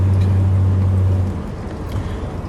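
A 1952 Chrysler New Yorker convertible driving along, its engine giving a loud, steady low drone with road and wind rumble heard from inside the car, easing slightly in the second half.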